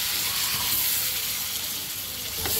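Fried potato, pointed gourd and cauliflower tipped into a hot pan of oil set off a steady, dense sizzle and hiss that holds at an even level throughout, with no voices.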